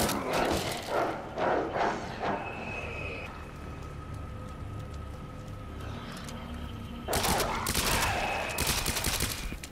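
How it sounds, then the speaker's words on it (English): SMG gunfire in the video game Resident Evil 2 Remake, rapid bursts of sharp shots at the start, a quieter stretch of ambient hum, then another loud volley near the end. "not too many bullets from the SMG either to take it down"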